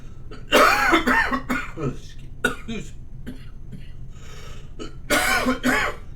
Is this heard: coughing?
yes